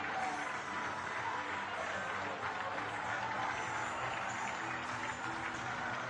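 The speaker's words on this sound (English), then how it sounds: "So their fans continue to applaud their heroes off the pitch." Rugby league fans at a Swinton Lions versus Doncaster play-off match applaud players off the pitch, a continuous distant wash of clapping and crowd noise filling the stadium.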